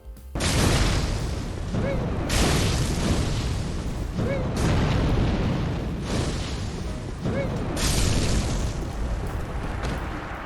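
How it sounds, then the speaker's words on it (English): Fire orb pyromancy spells exploding in Dark Souls 3 during a fight with a sword master, a run of loud booming blasts about every two seconds, each with a sharp attack and rumbling decay over dense continuous game noise. "Let's try fire orb now on the sword master."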